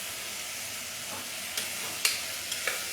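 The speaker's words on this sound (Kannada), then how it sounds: "ಇದು ಸ್ವಲ್ಪ ಫ್ರೈ ಮಾಡಿಬಿಟ್ಟು ಬಾಯ್ಲ್ ಮಾಡಿದ್ರೆ ಟೇಸ್ಟ್ ಚೆನ್ನಾಗಿ ಬರುತ್ತೆ" Potatoes frying in a pan of hot oil, a steady close sizzle with a few sharp scrapes and clinks as they are stirred, no voices.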